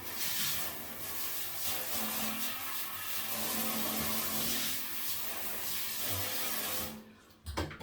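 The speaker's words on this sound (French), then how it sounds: "elle n'a pas rincé la baignoire comme d'habitude. Donc je vais la rincer." Running water rinses out a bathtub, a continuous broad hissing splash at moderate distance that cuts off abruptly near the end, followed by a couple of faint knocks.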